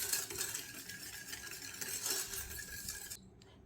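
Milk and sugar stirred in a pot as they come to a boil for a Turkish chicken-breast pudding, a spoon scraping steadily and close with a faint sizzling hiss, stopping abruptly near the end.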